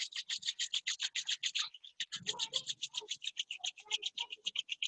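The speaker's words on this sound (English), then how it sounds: "Rub your both the palms." Palms of both hands are rubbed briskly together during a yoga session, making a fast, even rhythmic swishing close up with a brief pause partway through and a soft voice underneath.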